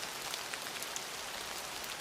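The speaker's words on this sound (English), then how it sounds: "The wind howled and the rain poured heavily." Heavy rain pours steadily on a surface, a dense, even hiss with scattered close drops and no pauses.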